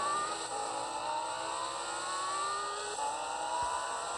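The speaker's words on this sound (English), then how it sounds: "Hit the gas and let's go." A Subaru Impreza WRX engine steadily accelerates in the Rebel Racing game, a constant, fairly loud whine that holds through the clip with gradually rising pitched tones and no voices.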